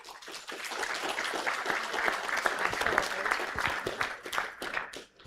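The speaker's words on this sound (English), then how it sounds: "Can we have a round of applause for those people?" Steady applause from a sizable audience, many hands clapping densely and evenly for about five seconds before tapering off.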